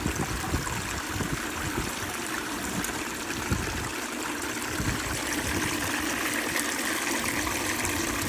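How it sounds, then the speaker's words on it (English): A small squirt bottle rinsing gold concentrates out of a sluice cube, a continuous hissing trickle of water spraying and running steadily, close and fairly even, with no talking. "I'll clean the rest of it out with my little squirt bottle."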